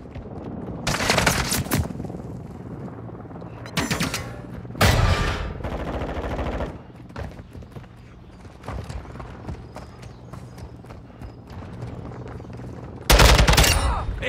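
Gunfire in Call of Duty Modern Warfare 2 team deathmatch comes in several loud bursts separated by quieter stretches, with a final heavy volley near the end over background game noise.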